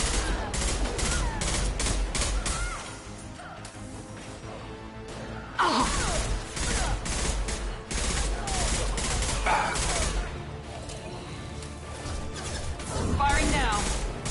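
Gunfire in Mass Effect 2 Legendary Edition, with rapid bursts and sharp crashes stretching across the whole stretch, loud and dense, mixed with game sound and spoken voices.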